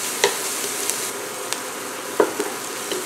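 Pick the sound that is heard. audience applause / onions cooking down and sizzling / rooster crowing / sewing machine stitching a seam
onions cooking down and sizzling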